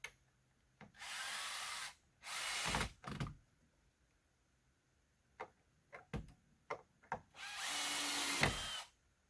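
Power drill driving screws into wooden porch steps, several separate bursts of whirring a second or two long, with short clicks and knocks in between.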